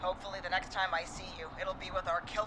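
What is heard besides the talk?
No everyday noise stands out behind the speech.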